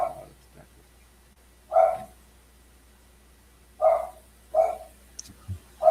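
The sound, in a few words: dog barking in the background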